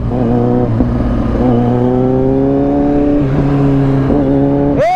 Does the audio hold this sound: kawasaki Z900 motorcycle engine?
yes